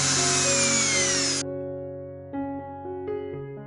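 A power drill whirs at a high pitch for about a second and a half, then cuts off, leaving a lingering tonal hum with soft music-like notes.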